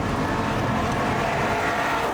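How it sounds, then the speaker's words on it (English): Bentley Bentayga V8 engine revving, a steady dense rumble heard from inside the cabin, loud and continuous with no speech. "inside you hear a nice V8 rumble"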